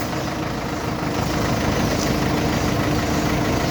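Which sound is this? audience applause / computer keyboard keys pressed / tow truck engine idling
tow truck engine idling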